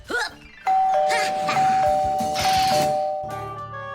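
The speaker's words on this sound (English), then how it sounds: "Real guests always ring the bell." A cartoon doorbell gives a loud ding-dong chime, a short tone sounding twice over about three seconds after a brief sound at the start.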